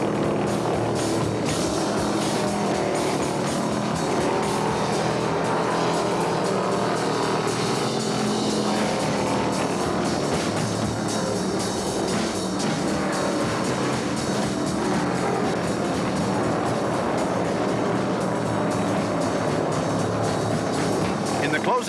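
A pack of 1971 NASCAR stock cars, Mercurys and Dodges, roars steadily down the front straight at the Michigan 400, a dense continuous engine drone under a race commentator's voice.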